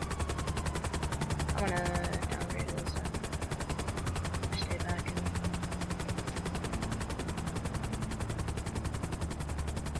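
In GTA V, a police helicopter keeps up steady, rapid gunfire beneath a constant rotor drone, with a brief flare-like whistle early on and a faint voice talking underneath.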